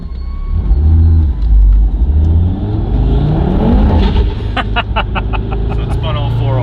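A 500bhp Audi TT RS engine revs hard on a dyno, loud and close, its pitch climbing and falling in strong surges. The engine note stays up front the whole time.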